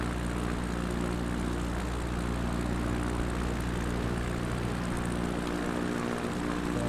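Small propeller plane engine in a backcountry flight simulator game, a steady loud droning hum that holds at constant pitch throughout, with no speech.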